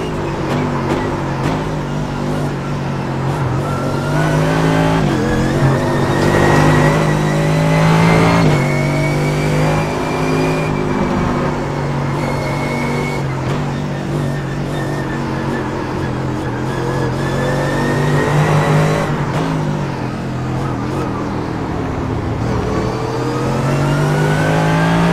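GT3 race cars, including Ford GTs, in the iRacing sim at Silverstone: engines drone and rev continuously, pitch climbing and dropping through gear changes, loud and sustained without speech.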